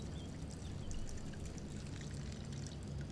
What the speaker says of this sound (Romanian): Hai să fac și eu un pișu.